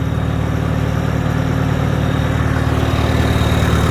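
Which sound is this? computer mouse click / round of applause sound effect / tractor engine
tractor engine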